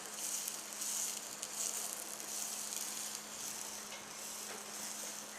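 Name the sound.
onion frying in pan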